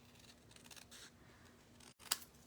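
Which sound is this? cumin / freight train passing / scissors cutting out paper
scissors cutting out paper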